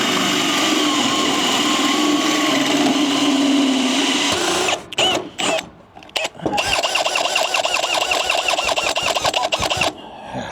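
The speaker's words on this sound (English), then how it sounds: "we are in the process of drilling those holes" A power drill boring holes into a flat bed trailer, with a loud continuous high-pitched whine that cuts out abruptly, then sputters and restarts with a rough, steady motor drone.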